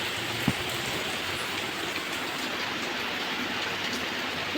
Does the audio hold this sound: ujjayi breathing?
no